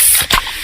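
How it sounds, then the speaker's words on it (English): A can of Pepsi cola cracks open with a sharp burst, followed by a bright, steady fizzing hiss, close and loud. "that's the sound of a freshly opened fizz-filled Pepsi"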